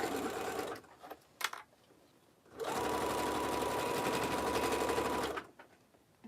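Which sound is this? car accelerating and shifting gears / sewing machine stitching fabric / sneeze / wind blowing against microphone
sewing machine stitching fabric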